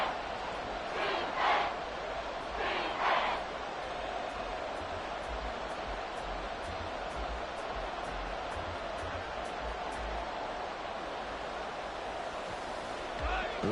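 A stadium crowd in the Madden 24 football game roars as a steady broad wash of cheering, with a couple of louder swells near the start, while a commentator talks over it.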